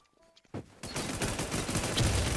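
Gunfire in the video game Midnight, a few quiet clicks, then sudden heavy bursts of rapid shots that build into a loud, continuous barrage.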